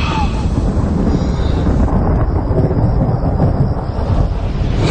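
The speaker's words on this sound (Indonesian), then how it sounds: "aku dikagetkan dengan suara petir yang sangat keras" A very loud thunderclap booms and rolls during a stormy night, filling the whole span with dense, roaring low rumble and wind-like noise that never drops away.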